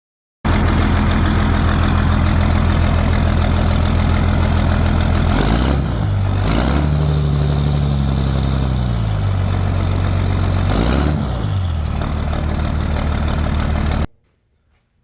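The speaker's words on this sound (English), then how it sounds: "We got a muffler delete in. She is straight piped. Sounds beautiful." A straight-piped New Holland 8770 tractor with its muffler deleted runs loud and close, a deep steady engine drone whose pitch dips and rises briefly in the middle before the sound cuts off.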